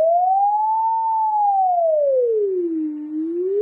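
A single synthetic siren tone glides slowly up and down in a smooth wail, loud and clean with nothing else behind it.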